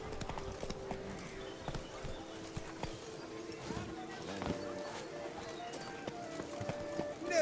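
Horse hooves gallop in The Witcher 3: Blood and Wine, a quick, fairly faint clip-clop rhythm that carries on throughout beneath game ambience.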